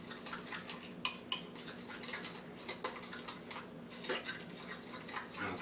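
A spoon mixing protein chocolate soufflé batter in a dish: irregular light scraping and tapping clinks against the dish, close and fairly quiet, with no talking.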